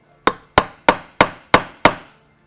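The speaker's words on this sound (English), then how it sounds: "Hammer, center punch." Six sharp hammer blows on a center punch during a roof rack install on a 14th-gen Ford F-150, struck at an even, steady pace, each a crisp metallic crack with a short decay, loud and close with no talking.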